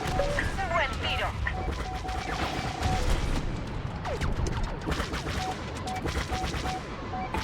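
Rapid blaster fire crackles through a space dogfight in the Star Wars: Squadrons video game, dense bursts of laser shots layered with explosions and engine whine under game voices.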